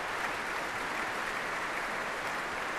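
Applause from a concert audience at the Concertgebouw in Amsterdam, cheering the orchestra and conductor after a Beethoven symphony; dense, steady clapping that fills the hall evenly throughout, with no voices standing out.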